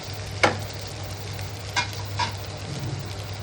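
Chicken 65 fries in oil with a soft, steady crackle and hiss. A few sharp clicks and scrapes stand out from the sizzle, and a faint low hum runs underneath.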